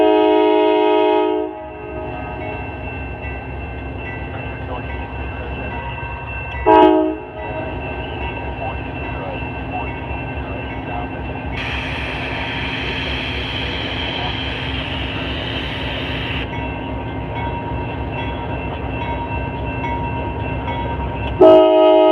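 A Norfolk Southern freight train, NS11Z, rumbles past steadily for a long stretch while its horn blasts in several sustained tones, loud and close, with brief faint voice.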